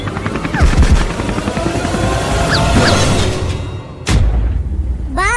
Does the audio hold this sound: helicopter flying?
yes